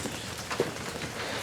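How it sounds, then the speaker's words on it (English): Heavy rain pours down outdoors beside a 1983 Honda ATC 200S three-wheeler, a steady broadband hiss of drops hitting surfaces with a few louder splats, continuous and fairly close. "As you can hear, it's pouring down rain right now."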